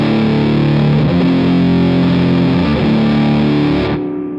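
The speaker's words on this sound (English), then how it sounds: "let's go for a really fat sounding fuzz sound" Thick, bassy fuzz guitar played through an Analogwise Skyrocket fuzz pedal, a loud sustained distorted riff that rings out for about four seconds before cutting off.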